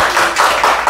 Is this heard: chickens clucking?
no